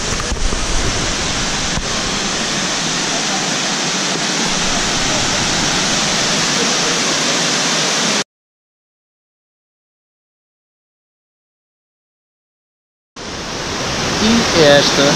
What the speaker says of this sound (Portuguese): E a cascata é esta maravilha.